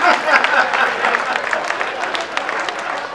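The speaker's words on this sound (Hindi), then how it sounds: "भाई तालियां कम बजाइए आप लोगों ने" Audience at a Hindi comedy poetry gathering breaks into loud, continuous applause, a thick rolling patter of many hands with crowd noise mixed in.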